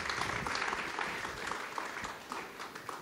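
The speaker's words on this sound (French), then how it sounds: "on peut les Bonsoir. applaudir" Audience applause at a festival introduction in a concert venue, a dense, continuous clapping from a crowd, fairly faint and even throughout.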